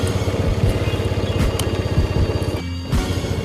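A motorcycle engine runs steadily at idle during a battery charging system check, its rapid even firing pulses loud and close, with a brief dip in the sound near the end.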